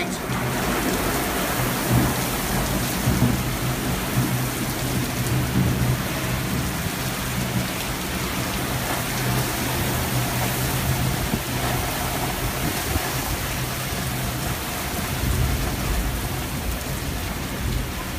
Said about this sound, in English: Don't even need another drop of rain.